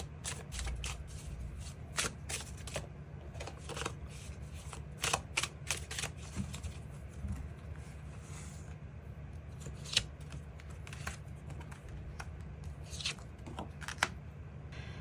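Tarot cards are shuffled and drawn for a reading, making a quiet run of close papery riffles and flicks with a low background hum.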